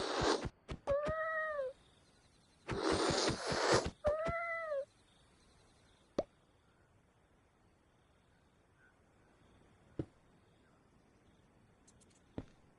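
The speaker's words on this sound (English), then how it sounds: "that now meowing is annoying me" Cat meows from a Minecraft game: two loud bursts of rising-falling meows near the start, followed by near silence broken only by a few brief clicks.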